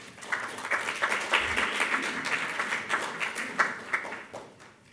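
Audience applause after a presentation at a talk about a church and long barrack, a burst of hand clapping from a crowd with uneven peaks, moderately loud, fading slightly toward the end.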